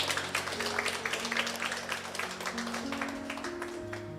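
A church congregation applauds during a service, a soft, steady patter of many hands clapping at a distance, with sustained keyboard tones playing beneath.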